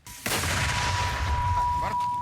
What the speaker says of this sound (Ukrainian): Нищити ворога допомагає мінометний вогонь.